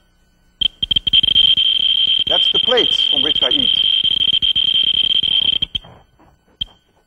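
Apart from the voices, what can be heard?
Geiger counter beeping near uranium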